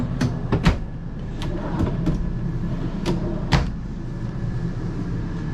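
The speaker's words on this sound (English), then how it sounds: "Look how big these drawers pull out." Large storage drawers in a 2018 Thor Miramar 37.1 motorhome are pulled out, giving a series of sharp clunks and sliding knocks spread over several seconds against a quiet, steady background.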